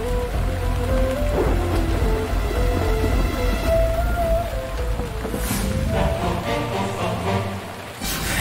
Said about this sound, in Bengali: এরে, এখনই বৃষ্টি শুরু হলো।